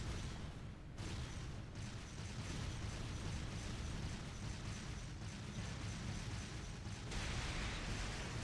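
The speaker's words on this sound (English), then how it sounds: "Fire a barrage to cover your retreat!" Barrage explosions from the video game Trails of Cold Steel II boom in a dense, rumbling sequence with a few sharp bursts and dips, steady and loud throughout with no talking.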